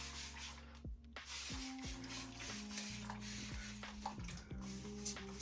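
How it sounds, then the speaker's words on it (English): A continuous spray bottle mists water onto fine, wavy, curly hair in a long, steady hiss, close and fairly quiet, with faint rubbing sounds alongside. "You spray it and it it's like a continuous sprayer."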